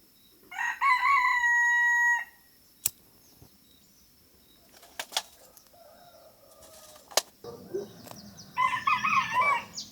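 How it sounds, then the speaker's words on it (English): A rooster on a farm in the Colombian countryside crows loudly twice, once near the start and again at the end, with scattered sharp knocks and faint rustling between the calls. "one problem with camping on a farm is you're almost guaranteed to be woken up by a rooster"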